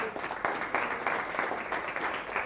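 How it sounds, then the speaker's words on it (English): A small group in a school workshop breaks into brief, moderately loud applause with rhythmic clapping that lasts a couple of seconds, with no one talking over it. "Let's give her a round of applause."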